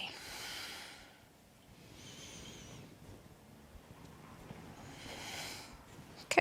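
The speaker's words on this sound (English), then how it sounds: "Slowly exhale." A slow, breathy exhale during a gentle yoga back stretch, soft and close, rising as a broad airy hiss and fading over a few seconds with quiet room tone around it.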